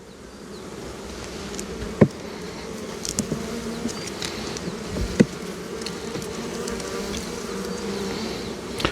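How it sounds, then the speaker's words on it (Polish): Dense, steady buzzing of many Buckfast Caucasian honeybees close by in a hive, a continuous hum with a few sharp clicks and knocks scattered through it. "Na ostatniej ramce pełno pszczoły."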